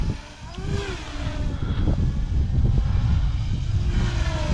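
An FPV drone on FPVCycle 30mm motors whines loudly and continuously overhead, its pitch swooping up and down with throttle changes in a steady, droning buzz.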